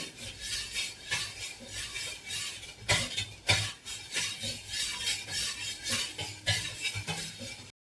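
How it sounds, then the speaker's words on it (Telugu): A milk and sugar mixture for junnu is stirred in a metal vessel, giving close, quiet scraping and clinking of a spoon against the sides in uneven strokes, with no talk. "మిక్స్ అయ్యేటట్టు ఒకసారి కలుపుకోవాలి."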